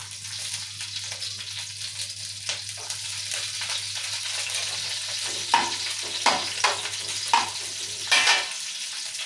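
Chillies frying in a little oil in a pan alongside bitter gourd, a steady close sizzle with scattered pops and a few louder scraping stirs toward the end, no voices.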